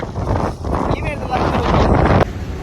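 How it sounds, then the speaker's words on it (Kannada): Strong gusts buffet the microphone in loud, rumbling surges, swelling and easing over a few seconds. "ಹೆವಿ ಉಂಟು ಗಾಳಿ"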